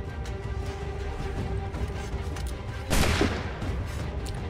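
A gunshot in Assassin's Creed 3 rings out as one loud, sharp blast followed by a short decay, standing out above steady game sounds.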